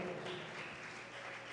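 Church congregation applauding together, a steady dense wash of clapping at moderate level with no pauses, carried alone across the short stretch.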